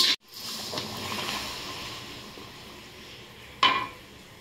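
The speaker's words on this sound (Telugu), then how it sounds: "ఇప్పుడు కొన్ని పల్లీలు వేయించుకుంటున్నా" Peanuts are roasted in a pan over a low flame, giving a soft continuous sizzling hiss, with a sharp metallic scrape or clink at the start and another near the end.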